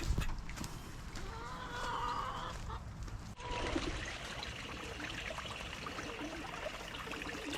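A new pond pump sends water through a small-diameter hose, a faint steady trickle and splash running on outdoors with soft background sounds.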